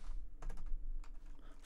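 Fingers tap a computer keyboard in short bursts of quick clicks, close and moderately quiet over a low background hum, with no one speaking.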